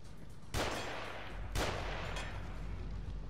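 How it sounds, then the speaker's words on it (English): Two loud gunshots from an enemy sniper in The Evil Within, Chapter 11, each a sharp broadband crack with a decaying tail, about a second apart, with faint game ambience between. "So he fires two shots."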